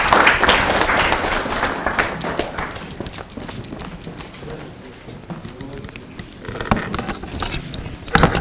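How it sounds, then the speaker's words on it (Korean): An audience at a political party training session for regional committee chairs gives applause in welcome, with a dense burst of clapping that eases off and then swells again near the end, with some voices mixed in. "큰 박수로 맞이해 주시기 바라겠습니다."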